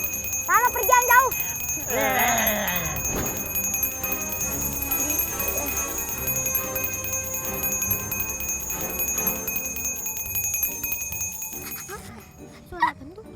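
A small, mini bell rings steadily in a spooky scene, giving a thin, continuous high jingle that runs through the whole stretch, while agitated voices and cries sound over it early on.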